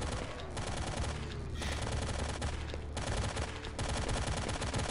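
Gunfire in the STALKER video game during a fight with zombies, rapid automatic bursts and scattered shots crackling loudly and continuously with short gaps.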